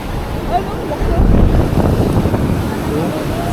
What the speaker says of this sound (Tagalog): yung alon dito may kalakasan pero sakto lang naman